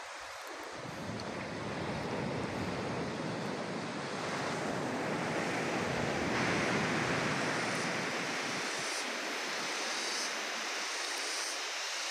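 Incoming tide washing against the shore, a broad steady rush of surf close by with gentle swells in intensity, mixed with some wind noise and no voices.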